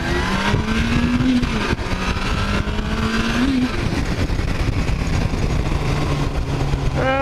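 A motorcycle accelerating on a road ride, its engine droning loud and close throughout with a couple of rising revs as it picks up speed.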